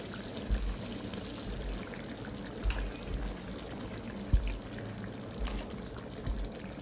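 Thick first-press coconut milk poured into a simmering spicy Jaffna-style chicken curry, a soft, quiet liquid pour with a few low soft bumps, close and alone without talking.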